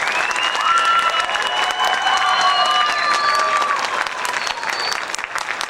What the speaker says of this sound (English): Let's hear your round of applause as if they finish playing.